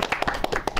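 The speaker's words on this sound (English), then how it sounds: "let's give him like a little applause for him." A short burst of hand clapping, a few quick rhythmic claps close by, brief and fairly loud.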